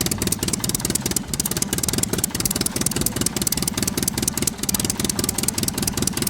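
A tractor engine runs at a steady, loud, rapid chugging pulse as the vehicle drives on, close to the microphone and with no talk.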